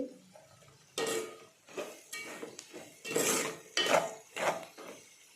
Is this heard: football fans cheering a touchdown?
no